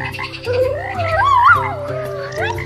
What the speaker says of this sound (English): Bow wow, says the dog.